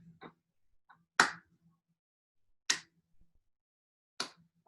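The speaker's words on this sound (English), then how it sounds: "Now with the clap." Three sharp, separate hand claps land about one and a half seconds apart during a seated occupational therapy exercise, crisp and close in an otherwise quiet room, with faint softer taps between them.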